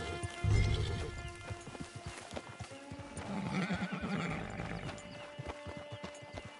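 A horse in Red Dead Redemption 2 clops along with steady hoofbeats and lets out a whinny near the start, close and clear against a quiet game backdrop.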